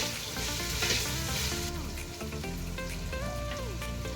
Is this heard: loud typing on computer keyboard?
no